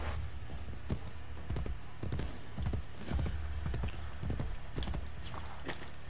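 A horse clip-clops along in Assassin's Creed Brotherhood, its hooves striking in a steady trotting rhythm that stays close and clear over a faint background hum, with a possible brief whinny and no talk.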